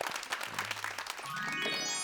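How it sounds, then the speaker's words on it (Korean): A studio audience claps in a dense, close burst of applause that settles into a steady patter, with a musical tone rising underneath toward the end. "박수."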